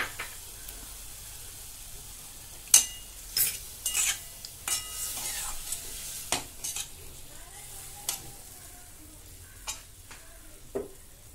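Mustard and poppy seed paste in a pan for a Bengali vegetarian chorchori gives a faint sizzle, with scattered sharp clinks and scrapes of a utensil stirring against the pan.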